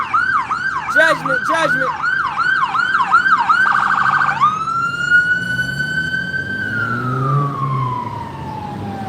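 An emergency vehicle siren passes close by on a city street, wailing in quick rising-and-falling cycles before switching to a long, slow drawn-out tone that fades away, with a brief spoken word near the start.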